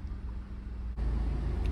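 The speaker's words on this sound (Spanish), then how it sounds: "Ok, amigos, ya está prendido el carro." A 2008 Nissan Altima 2.5 S engine idling steadily just after starting, a low continuous rumble close by that steps up slightly in level partway through.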